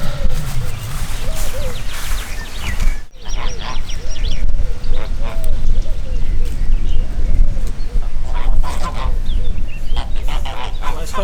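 Geese honking repeatedly at close range outdoors, mixed with fowl and duck-like calls over a steady crackling background.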